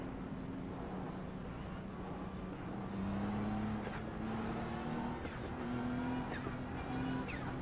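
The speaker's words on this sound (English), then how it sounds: "I love the turbo noise." A race car in the iRacing video game drives with a steady engine drone and repeated rising turbo whistles that spool up and cut off several times, fairly quiet throughout.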